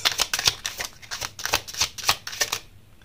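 Playing cards are shuffled and drawn for a love tarot reading: close, crisp riffling bursts in a quick rhythm of about ten flicks, ending in a brief quiet moment.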